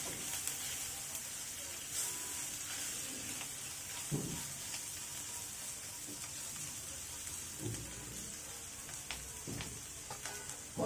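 Turmeric, coriander powder and salt being sautéed together in a pan for a banana flower curry, giving a soft, steady sizzle with occasional stirring scrapes throughout and no talking.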